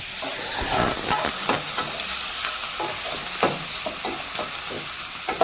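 Broccoli, mushroom and paneer frying in a pan, a steady loud sizzle and hiss with repeated scraping stir strokes from a spatula throughout, no voices.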